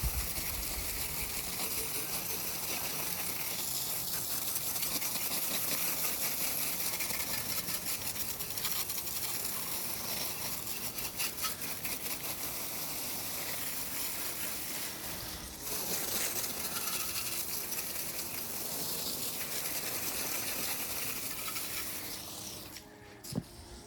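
Water spraying onto a long-stored, dusty hardtail mountain bike at a washing station, a loud continuous hiss with shifting pressure and short interruptions near the middle and end.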